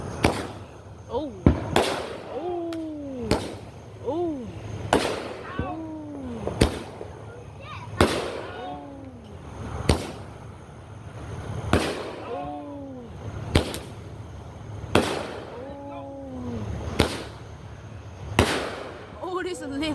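Backyard fireworks and firecrackers go off in a steady series of sharp, loud bangs roughly every second or two, some trailing whistling or screaming tails, with excited voices calling out between the blasts.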